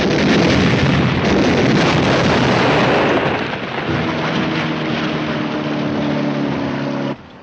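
A tank gun fires in a 1951 war film, a loud sustained blast and roar giving way to a droning engine rumble that cuts off abruptly near the end.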